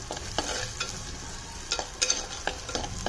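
Small onions fried in oil in a clay pot, a steady close sizzle broken by repeated scraping stirs against the pot's sides.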